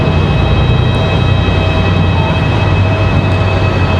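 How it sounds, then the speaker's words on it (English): Steady, loud broadband roar of an Airbus A320 jet departing Raleigh-Durham airport, a constant engine rumble with no break throughout. "That A320 that just departed there."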